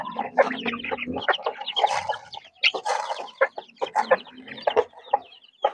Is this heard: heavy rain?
no